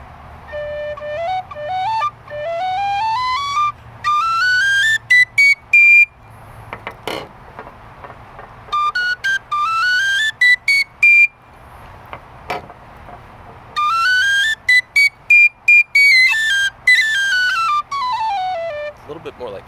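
A Generation D tin whistle plays rising and falling scale runs of clear high notes in separate phrases, with brief gaps, clicks and a voice between passages.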